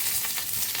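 A bay leaf, a cracked cardamom pod and a piece of cinnamon sizzle in hot oil for a doi potol curry, giving a steady close crackling hiss with no talk.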